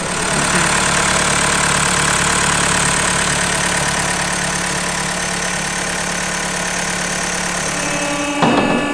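A car engine in a garage idles steadily and loud with a constant mechanical drone, and near the end a short clunk comes as it cuts off. The car has a fault while still under warranty.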